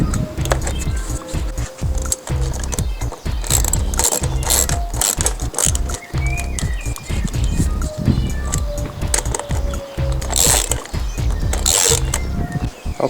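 Hose clamps are tightened by hand on a car airbox conversion for a 2.0 turbo engine, giving a loud, close, rapid ratcheting clatter that runs almost without pause.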